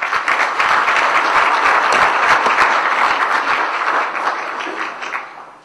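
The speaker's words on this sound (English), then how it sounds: "may we have a big round of applause." Loud, sustained audience applause fills a symposium hall at the inauguration of a keynote session. Dense clapping runs throughout and tapers slightly toward the end.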